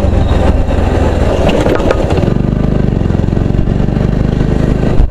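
Up close and loud, a Bajaj Pulsar NS125 BS6 motorcycle engine revs raggedly, then settles into a steady, throbbing idle.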